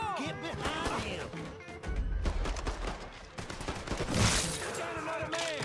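Gunfire in the video game Mafia 3: rapid bursts of shots crackling in quick succession, loud and dense, with voices shouting over the shooting.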